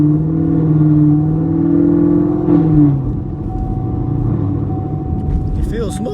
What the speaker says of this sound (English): I feel like I hear my cam a little bit more.